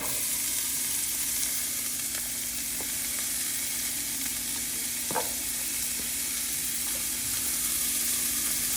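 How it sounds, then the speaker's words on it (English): Chicken sausage frying in a pan with onion and garlic, an even, moderately loud sizzle holding throughout, with a low hum and a single sharp utensil scrape midway. "we're gonna cook this for like 6 to 8 minutes until the sausage is fully cooked and nice and brown"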